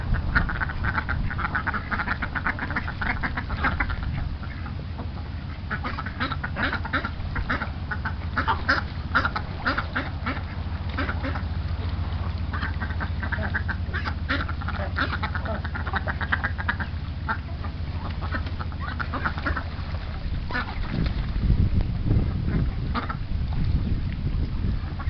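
Mallard ducks on a pond quack repeatedly in their mating calls, a busy overlapping chorus of close, fairly loud quacks over a steady low background hum. No one speaks.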